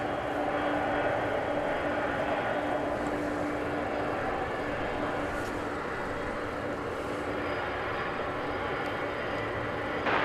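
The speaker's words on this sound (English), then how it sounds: "And here comes that MD-11." A McDonnell Douglas MD-11 airliner at DFW Airport, heard as a steady, broad jet roar that holds at an even level throughout, fairly distant with a faint low hum beneath and no talk.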